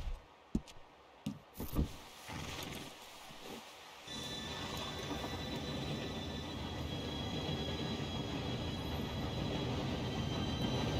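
A train in the video game Red Dead Redemption 2 approaches, a few sharp clacks and knocks giving way to a steady, loud rumbling roar of rolling wheels that swells and continues to the end.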